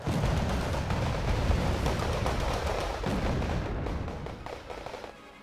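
Artillery and mortar barrages in the real-time strategy game Wargame Red Dragon form a dense, continuous rumble of booming blasts that stays loud throughout and eases slightly toward the end.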